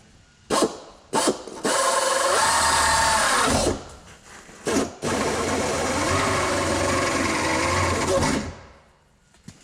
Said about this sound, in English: I'm going to drill a pilot hole down here right on that corner.